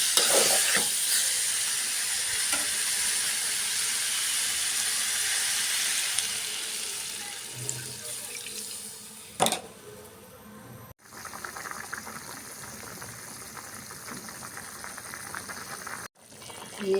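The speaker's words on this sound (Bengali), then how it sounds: "এখন জল দিয়ে দেব।" Water poured into a pan of frying potatoes for vegetarian aloo dum, a strong hissing sizzle that gradually calms to a softer simmer, with stirring and a couple of sharp clatters of utensils.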